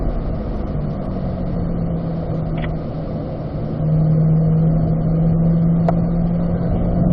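A race car engine drones steadily as it drives through the turns of a dirt-edged track, a continuous mid-pitched hum that swells louder partway through, with no voices.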